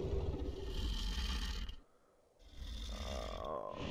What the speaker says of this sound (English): Dino's snoring, wow.